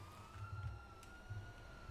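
A police siren wailing in a video game chase after a stolen garbage truck, a steady tone heard moderately far off and fairly faint under low engine rumble, with no talking.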